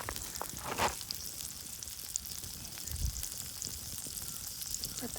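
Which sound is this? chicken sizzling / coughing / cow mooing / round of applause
chicken sizzling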